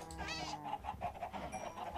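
Chickens clucking in Minecraft, a run of short repeated game-animal clucks and squawks with a steady rhythmic pattern over faint background noise.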